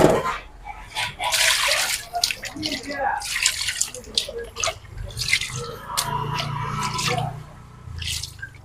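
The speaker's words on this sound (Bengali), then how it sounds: "মাংসগুলো ধুয়ে নিতেছি প্রথম" Goat meat being washed in water for a curry, with splashing, dripping and sloshing in bursts under a voice speaking throughout.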